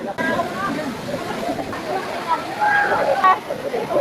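A mountain waterfall where friends are swimming roars as a steady, dense rush of falling water, heard from a short distance, with faint voices and chatter mixed into the background.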